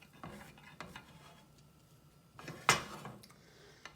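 A Japanese omelette with smoked fish is shaped in a pan with scattered soft scrapes and taps of a utensil, faint and close, with one sharper knock near the end.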